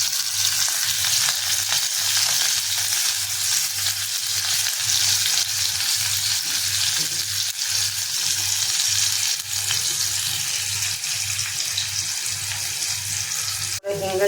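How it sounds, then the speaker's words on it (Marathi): Onion and garlic frying in hot oil in a pan, a steady loud sizzle with rhythmic stirring scrapes pulsing underneath, ending in a brief sharp knock. "तेलामध्ये कांदा आणि लसूण टाकले"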